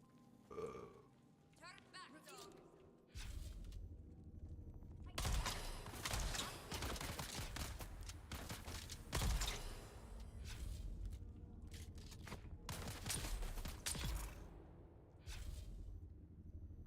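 Gunfire in the video game Dune: Awakening comes as dense rapid bursts, loud and sustained across most of the stretch with brief gaps, after a quieter opening of small effects.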